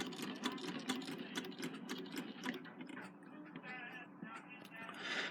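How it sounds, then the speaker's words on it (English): A hand-crank sewing machine runs with a rapid, even ticking and clatter as the handle turns, close up and continuous, with someone speaking over part of it. "So that is how you run a hand crank machine."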